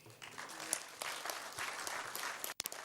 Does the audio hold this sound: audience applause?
yes